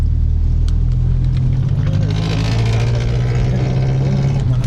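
A car with a chambered resonator exhaust rumbles steadily up close, its engine note rising slightly as it revs, loud and continuous with no talk.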